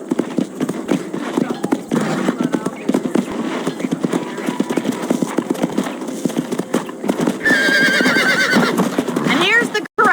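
Horses in the Red Dead Redemption game whinny and neigh beside a ranch corral while hooves clip-clop steadily, close and fairly loud, with a burst of high neighing near the end and speech-like sound running underneath.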